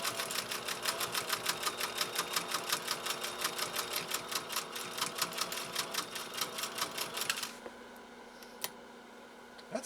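A 1930s GE Model A sewing machine stitching through six layers of heavy denim, with a fast, steady mechanical clatter of rapid, even needle strokes that stops after about seven seconds, followed by a few faint clicks.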